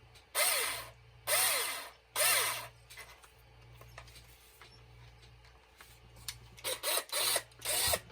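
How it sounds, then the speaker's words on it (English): Repeated bursts of a power drill whirring up and winding down, about five loud runs with short pauses and a steady low hum underneath. "So I'm gonna set this up to drill."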